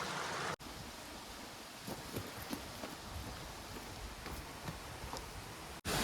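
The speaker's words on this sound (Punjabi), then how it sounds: "ਹੁਣ ਚੱਲਦੇ ਆ ਝਰਨੇ ਦੇ ਕੋਲ" Glacier water pours down a mountain waterfall near an old Gaddi village, a constant distant-sounding wash of rushing water with faint wind, broken briefly by two short dropouts.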